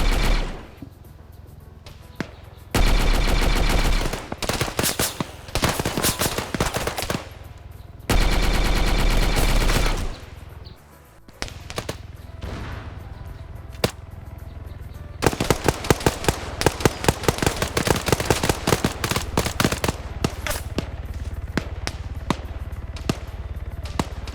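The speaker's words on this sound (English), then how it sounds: "there's someone west with a funky sounding gun" Rapid bursts of automatic gunfire from an odd-sounding prototype weapon in a tactical shooter game, loud and close, in repeated volleys with short pauses, with brief heavier blasts between them and no talk.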